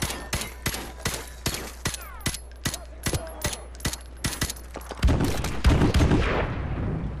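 Rapid bursts of gunfire crack in a steady rhythm, then heavy explosions roar and rumble in the Modern Warfare Remastered multiplayer match on the Winter Crash map, loud and close with no talking.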